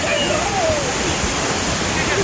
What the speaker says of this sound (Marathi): बघा आता आपण आंबोली धबधबा खाली येतो आणि हो तुम्ही धबधबा बघू शकता